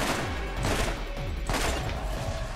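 Rapid video game gunfire from Borderlands crackles in a dense, continuous barrage of overlapping shots and booms, loud and close for the whole stretch.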